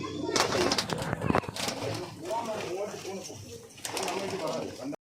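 Racing pigeons coo steadily inside a loft, a close and continuous burbling, while people talk over them.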